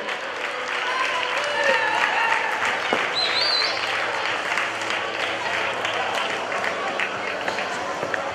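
Spectators at an outdoor cross-country race prize ceremony in Valtierra clap continuously, a broad crowd applause heard alongside faint whistles and voices over several seconds.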